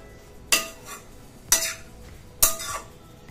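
A utensil stirring greens with salt and turmeric powder in a pot, three sharp metallic scrapes and clinks spaced about a second apart against a quiet background.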